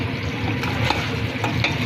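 Whole onions and garlic cloves drop into tomato paste frying in a pot for a bone-in meat dish, giving a steady close sizzle with the scrape of stirring and no talk.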